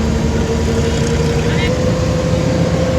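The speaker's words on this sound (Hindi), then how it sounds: "गियर मांग रही है, आवाज़ दे रही है गाड़ी आपको।" A car engine drones steadily and loudly while driving from a service road onto a highway, holding a strained, even pitch as if it needs a higher gear. A person talks over it.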